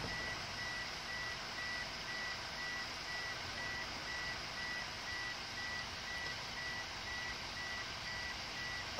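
A car's door-open warning beeps steadily at an even pace over a constant broadband hiss, with no voices.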